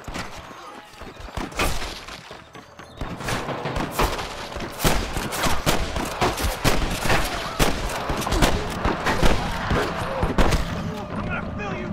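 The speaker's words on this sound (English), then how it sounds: "I can hear more gunshots." Rapid bursts of gunfire crack again and again in a dense, chaotic firefight in the video game Red Dead Redemption, with shouting voices mixed underneath.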